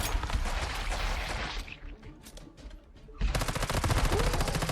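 Minigun fire from the video game Once Human, a dense continuous roar of rapid shots that dips briefly into scattered bursts before resuming at full, loud intensity.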